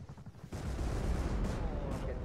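Dense, continuous gunfire and explosions from a firefight in the survival video game Rust, a loud sustained barrage that starts abruptly after a brief quieter moment, with voices talking over it.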